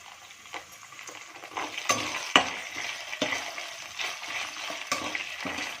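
Ginger-garlic paste sizzles with chopped onion in a pan while cooking paneer vegetable biryani: a steady frying hiss broken by several sharp scrapes and clicks of a spoon stirring against the pan, close and fairly loud, with no voices.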